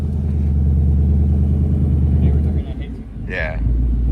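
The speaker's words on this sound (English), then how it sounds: "Burnout." A Ford Mustang S650 burnout: a loud, steady, rumbling engine drone holds at high revs, dips briefly, then surges again, with a faint voice in the background.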